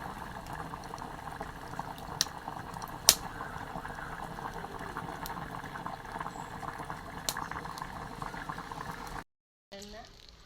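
Fish curry boils in a pot on the stove, a steady close bubbling and simmering hiss that runs continuously before a brief cut near the end.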